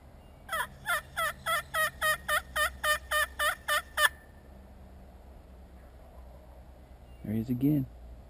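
A wild turkey gobbles in a rapid series of about a dozen bursts, followed after a pause by a deeper, louder call, all outdoors over faint background hum.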